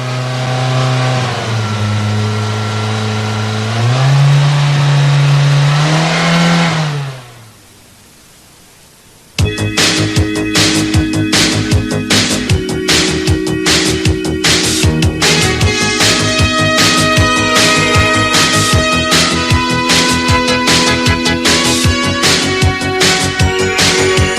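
A Toyota engine runs as its speed is varied during ignition and fuel system troubleshooting. A droning tone rises and falls, drops away briefly, then returns as a loud, steady, rapid running note with no talking.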